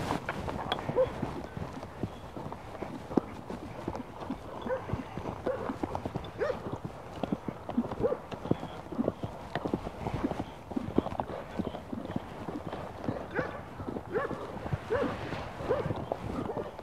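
A strong-willed horse canters in circles around a pole during training, its hooves clip-clopping in a fast, steady rhythm at close range over the whole stretch, with faint voices now and then underneath.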